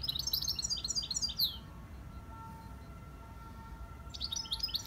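Birds chirp in a ginkgo biloba garden, rapid clustered twittering at the start and again at the end, moderately close, with a quieter pause between.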